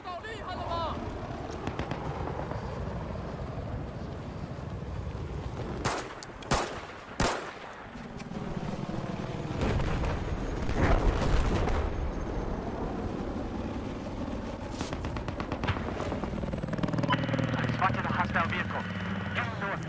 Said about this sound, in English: it looks like I'm taking some fire here